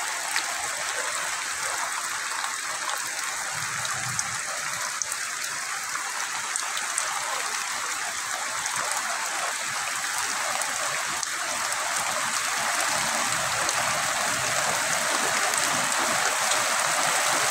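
Heavy rain in Satkhira falls steadily onto fields and pooled water, a dense, even hiss of countless drops holding at one level throughout, near and loud, with no talking.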